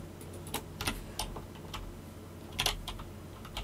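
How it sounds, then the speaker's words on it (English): Keys clicking on a computer keyboard during typing, in uneven bursts of sharp taps over a steady low room hum, fairly close and moderately quiet. "You can hear my keyboard clicking away."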